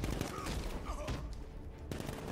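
Rapid sniper gunfire in the Batman Arkham Knight video game, a dense, steady burst of shots and impacts running through the whole moment amid busy game noise, with a sharper crack near the end.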